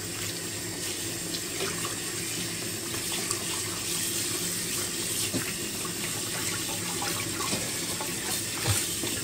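Dried octopus (zourite) from Rodrigues Island rinsed under a running kitchen tap, a constant close stream of water splashing into a sink for several seconds without pause, no voices.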